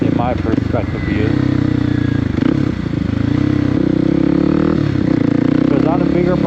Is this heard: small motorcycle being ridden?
yes